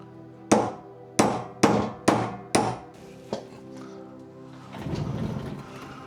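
A greased radius arm bushing on an 80 Series being hammered into place: five or six sharp, ringing metal blows in an uneven rhythm, loud and close, followed by a short rattle.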